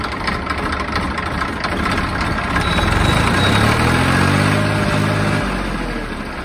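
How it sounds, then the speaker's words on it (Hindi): A heavy-duty J-series tractor diesel engine idles steadily, a low rumbling drone that swells slightly midway and stays fairly loud throughout, with no talk. "हैवी ड्यूटी ट्रैक्टर है, महाशक्ति।"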